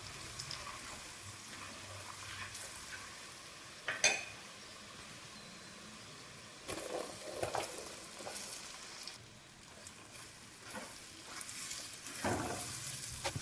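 Cut star fruit pieces for a hot and sweet pickle fry and get stirred in a pan on low flame, giving a quiet, steady sizzle broken by scrapes and clinks of the spoon against the pan.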